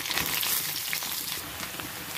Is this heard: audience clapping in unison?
no